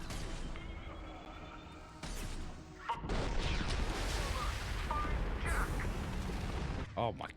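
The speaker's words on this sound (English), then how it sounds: "Impending explosion." Gunfire and explosive blasts crash repeatedly through a firefight in Mass Effect 2, loud bursts and sharp impacts with a voice speaking between them.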